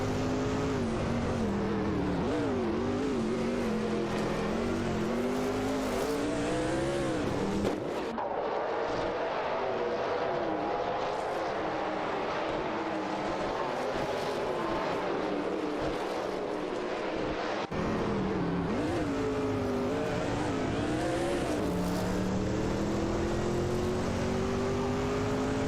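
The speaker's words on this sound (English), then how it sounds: "Racing car dashing away." AI-driven race cars speeding around a track in a career-mode racing video game, engines whining continuously with pitch rising and falling through gear shifts, loud and close, no talking.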